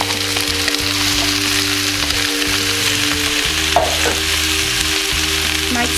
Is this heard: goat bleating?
no